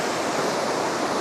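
Ocean waves break close to shore, giving a loud, continuous roar of surf with no distinct gaps between breakers and no voices.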